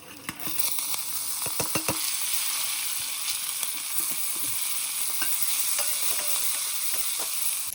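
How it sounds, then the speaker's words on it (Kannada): Green chilies, mint, coriander leaves and curry leaves frying in a pan for ghee rice, a dense, continuous hissing sizzle with a few spatula taps and stirring clicks, close and steady, no voices. "ಹಸಿಮೆಣಸಿನಕಾಯಿ, ಪುದೀನ, ಕೊತ್ತಂಬರಿ ಸೊಪ್ಪು, ಕರಿಬೇವು ಇಷ್ಟು ಹಾಕ್ಕೊಳ್ತಾ ಇದ್ದೀನಿ."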